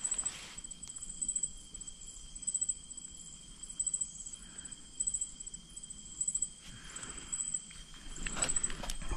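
Crickets chirp in short repeated trills against a quiet night background in the mountains, with faint rustling and a few soft footsteps nearby.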